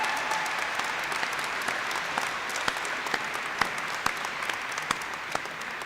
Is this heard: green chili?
no